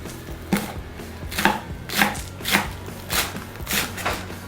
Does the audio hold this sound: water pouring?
no